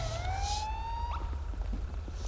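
Police car siren rising in a single long upward wail, fairly loud over a low rumbling engine and traffic hum, with no talk.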